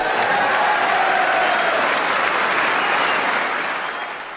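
A snooker hall crowd at the 1980 World Snooker Championship applauds loudly and steadily, a dense wash of clapping that tapers off slightly toward the end.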